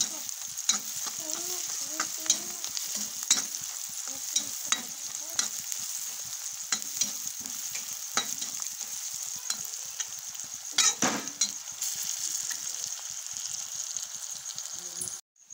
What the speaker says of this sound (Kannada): ಚುರುಮುರಿ ಹಾಕ್ಕೊಂಡು ಈ ಥರ ತಿರುಗಾಡ ಹಾಕ್ತೀನಿ